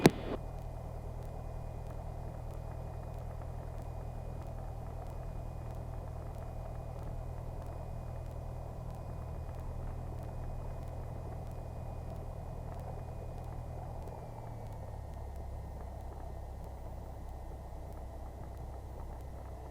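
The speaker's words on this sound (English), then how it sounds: "Cessna 172, Golf Mike Whiskey Hotel, going to taxi on to runway 28, backtrack to departure" Steady, low droning engine of a Cessna 172 light aircraft taxiing toward a runway, a continuous rumble with a faint whine that shifts slightly in pitch partway through, with no talk.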